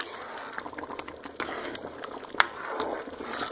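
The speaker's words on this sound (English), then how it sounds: "Just let it cook down until the sauce thickens up" Pasta sauce with meatballs simmering and thickening in a pot, giving a soft continuous bubbling and popping with scattered small splats, fairly close and steady, with no talk.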